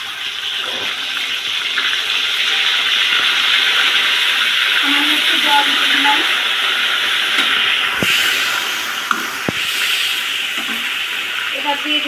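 Ginger and cumin paste hits hot oil with already-fried cumin, giving a loud, steady sizzle and hiss that runs throughout, with a couple of brief clatters near the end, as a potato and pointed gourd kofta with fish roe is cooked.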